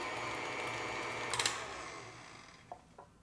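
A hand mixer whirs steadily while beating cheesecake batter with eggs in a bowl, followed by a few light clicks and knocks as it winds down.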